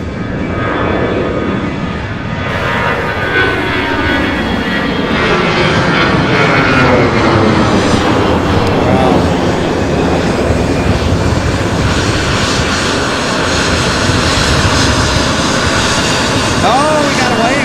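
A United Airlines airliner's engines roar loud and close at Louisville airport, a sustained broadband rush whose pitch sweeps as the plane passes, staying strong throughout.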